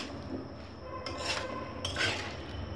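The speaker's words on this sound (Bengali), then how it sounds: "এবার আমি কেটে রাখা চাল কুমড়োগুলো দিয়ে দিচ্ছি। চাল কুমড়া দিয়ে ভালো করে কষিয়ে নেব" Chopped winter melon (white gourd) is stir-fried in a pan after prawns for a curry, with scraping and rubbing of a utensil against the pan and occasional metallic clinks, moderately quiet with no speech.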